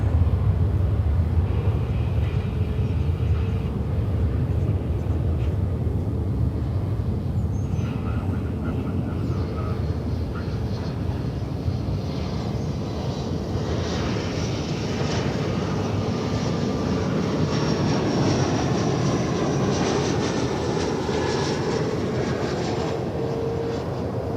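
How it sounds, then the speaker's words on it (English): An American Airlines Airbus A321 at DFW Airport gives a long, sustained jet engine rumble that swells slightly as it passes and slowly shifts in tone, loud and constant, with faint talk underneath. "That's American Flight 1272. It's going to San Diego, California on that Airbus A321."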